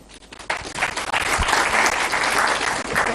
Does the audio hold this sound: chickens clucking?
no